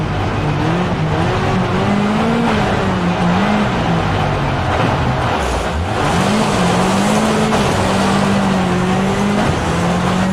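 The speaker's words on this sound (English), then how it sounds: "Accelerate to about 60 in second gear" In Richard Burns Rally, a rally car pulls hard in second gear, its engine note climbing and wavering loud and close. A brief dip comes midway, then revs build again over gravel-like tyre noise.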